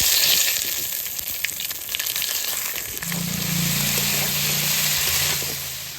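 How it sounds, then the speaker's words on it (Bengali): Bay leaf, cumin and dried chilli temper in hot oil while crab is being cooked, a loud crackling sizzle that holds steady throughout, with a low hum entering midway. "তেলটা দিয়ে দিই ফোড়নে দেবো তেজপাতা জিরে শুকনো লঙ্কা"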